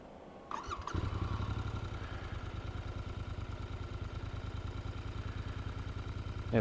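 A Royal Enfield Interceptor 650 motorcycle starts up and settles into a steady, throbbing idle, loud and close, its rhythmic parallel-twin pulse continuing evenly to the end.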